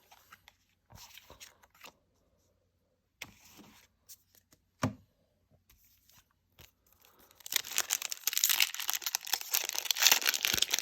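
Pokémon Scarlet & Violet 151 card packs being handled and torn open up close: sparse crinkles and sharp rips at first, then a long, loud stretch of continuous foil tearing and crumpling.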